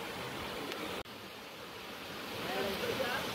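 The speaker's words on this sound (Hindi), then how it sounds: "और इधर पे बह रहा है पानी।" Water flowing out of Pagara Dam where picnickers bathe, a steady broadband rush like surf that holds constant and swells slightly near the end, with no voices.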